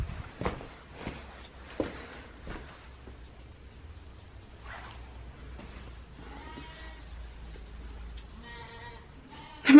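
Sheep in a field bleat a few times, faint and at a distance, amid quiet outdoor ambience with a few soft footsteps or knocks.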